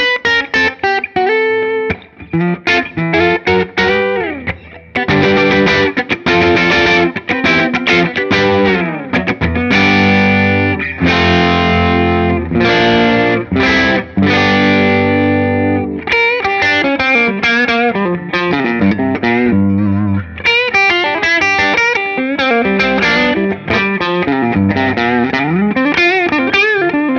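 A PRS CE24 electric guitar played through heavy distortion with some chorus runs through chords and lead lines, loud and continuous with brief pauses between phrases and no talking.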